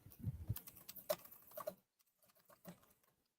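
Brief bursts of computer keyboard typing, a few quick irregular clicks close by and fairly quiet, trailing off into near silence with a couple of faint later taps.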